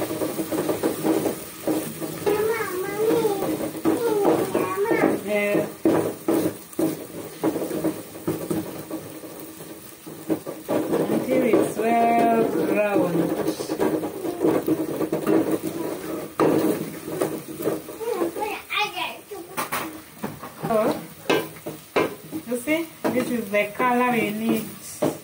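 Garlic and softened onions fry in a pan with a constant sizzle while a spoon stirs them, scraping and clinking now and then, and voices talk over the cooking throughout.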